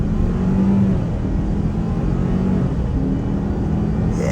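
A 2022 Ford Ranger XLT accelerating hard in S mode, its engine droning loud and close from inside the cab with a steady rising roar and a faint turbo whir.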